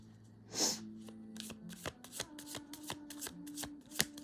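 Tarot cards are shuffled by hand up close: a soft whoosh, then a string of quick, crisp card flicks and slaps in an uneven rhythm, with no talking.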